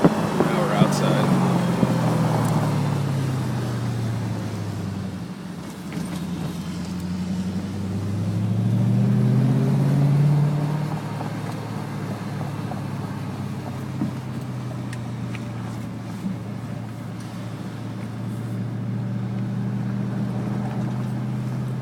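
BMW Alpina B7S4 engine idles outside a parking garage, a steady low rumble with a gentle swell around the middle, heard close with some wind noise.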